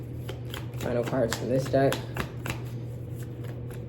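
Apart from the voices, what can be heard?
tarot card deck being shuffled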